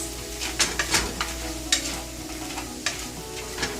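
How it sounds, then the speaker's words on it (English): Crispy fried fish tossed through sauce in a hot pan, giving repeated sharp scraping and stirring strikes over a steady sizzle, close and without talk. "Into this we'll add the crispy fried fish and quickly toss it around in the sauce."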